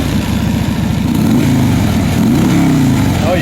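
Engine of a 2010 Harley Davidson FLHTCU trike conversion with 16k miles, running close and loud: a deep, steady, throbbing idle with a loping pulse and slight variations in rhythm, no voices over it.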